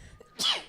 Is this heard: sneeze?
yes